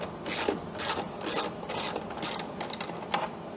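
A ratchet wrench loosens a bolt on a Honda EU7000is generator during a gas-to-propane and natural gas conversion, giving rapid bursts of clicking in an uneven rhythm, close and moderately loud, with no one talking.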